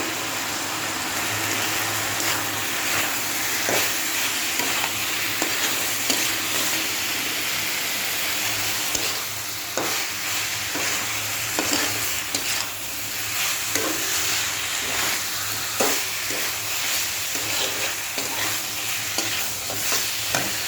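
Spiced curry sizzles and fries in a pan while a spoon scrapes and stirs it in irregular strokes, a steady close hiss of frying running throughout with no talking.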